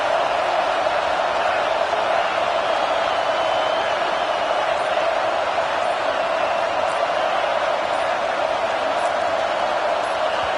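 A stadium crowd at an American football game keeps up a dense, steady roar that fills the whole stretch at a constant loud level, with no single voice standing out.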